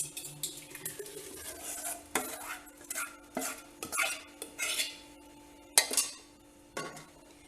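Ground dosa batter being moved from one metal pot into another, with close scraping and clinking of a spoon against the vessels in irregular bursts, no talking.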